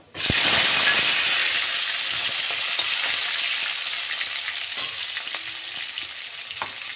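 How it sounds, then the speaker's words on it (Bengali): Tempering of cloves, cardamom, bay leaf, dry red chilli and cumin hitting hot oil in a pan, a loud sudden sizzle that settles into a steady frying hiss with occasional stirring clinks. "লবঙ্গ, এলাচ আর তেজপাতা। ফোড়নটা দিয়ে দিলাম।"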